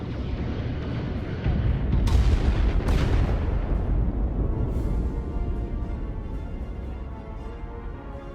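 Starship weapons fire in the video game Star Trek: Resurgence, loud booming blasts with a couple of sharp cracks, then a long rumbling roar that slowly fades.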